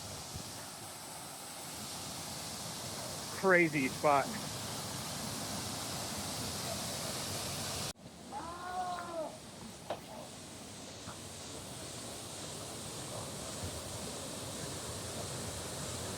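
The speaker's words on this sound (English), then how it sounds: "What a waterfall." A steady broadband roar of a waterfall in Glacier National Park fills the whole stretch, with brief voices speaking over it partway through.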